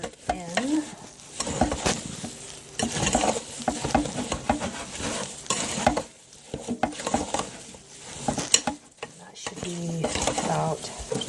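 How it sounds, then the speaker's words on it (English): Stirring homemade bath truffle frosting into batter in a bowl, a continuous close scraping and squelching with irregular rhythm, and someone speaking intermittently over it. "So you just do a little bit into the batter at a time. Stir it in."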